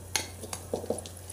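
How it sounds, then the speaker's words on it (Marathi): Cooked dal for puran poli being mashed with a spoon in a pot, a few soft scraping and tapping strokes of the spoon against metal over a steady background hum. "छान अशी चमच्याने मॅश करून घेऊया."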